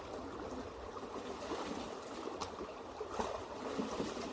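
Water washes and trickles softly through a gold pan, a faint continuous swishing with a small splash partway through and no voices.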